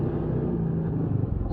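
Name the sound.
CFMoto ZForce 500 UTV engine cruising at 30 mph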